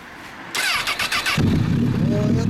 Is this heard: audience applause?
no